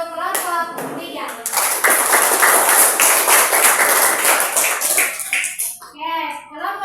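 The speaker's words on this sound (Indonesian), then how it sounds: "Kita tepuk tangan lagi untuk kelompok 3." A class claps for a student discussion group: a brief spoken line, then several seconds of many hands clapping in a classroom, fading out as voices resume near the end.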